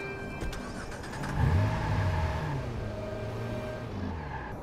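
A sports car engine in the video game Watch Dogs pulls up with a steady, close rumble that swells after about a second and holds loud and even to the end, with no talk over it.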